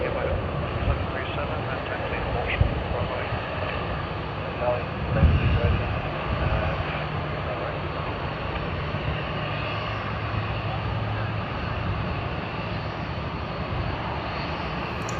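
Qantas flight QF27, bound from Sydney to Santiago, sends a low, steady engine roar across Sydney Airport from a distance, with people talking over it.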